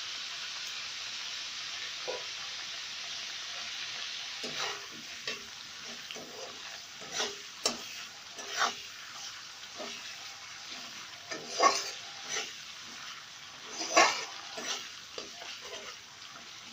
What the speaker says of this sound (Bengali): গোটা জিরে ফোড়ন দেব, একটু বেশিই দেব গোটা জিরেটা